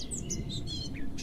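Small birds chirp and tweet in short, bright, repeated calls at moderate distance, with no voices.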